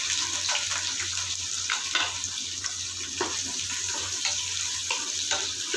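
Sliced onions frying in hot ghee in a pan for a coconut-milk ghee rice, giving a steady close sizzle with occasional soft clinks of stirring throughout.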